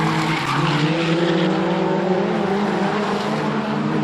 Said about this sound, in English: So 42 has Paul Webb spinning out as well.